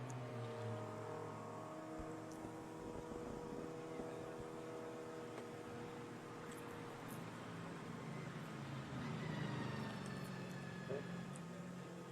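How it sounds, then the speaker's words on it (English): BMW safety car leading a pack of GT race cars at the Macau Grand Prix: several engines drone steadily together, with one rising in pitch near the end, moderately distant. "The BMW safety car picks up the race leader."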